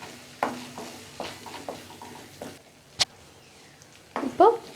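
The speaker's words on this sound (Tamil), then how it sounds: "சேர்த்துட்டு லைட்டாக கலந்து விட்டுக்கலாம்." A spoon stirs garam masala and coriander powder into egg curry gravy in a pan: a few soft scraping strokes over a faint sizzle, one sharp click against the pan, then a louder clatter of stirring at the end.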